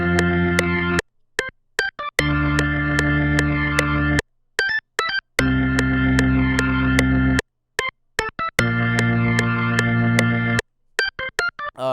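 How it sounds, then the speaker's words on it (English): Organ chords in a hyperpop beat play a main progression as long sustained blocks, broken by gaps filled with sharp, clicky percussive hits; loud, close and with no voices. "This is what the main chord progression sounds like for what I made."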